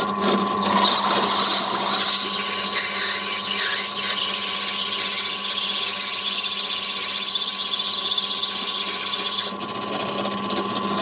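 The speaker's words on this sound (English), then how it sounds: "Got a 6mm drill bit. So I'm just going to drill straight through it." Power drill running steadily for about ten seconds as a 6mm bit bores through a 6mm bolt fitted to a 12v solar battery's terminal block, a close, constant whine that stops near the end, with no talking.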